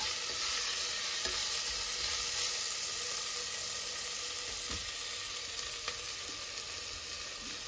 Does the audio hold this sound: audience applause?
no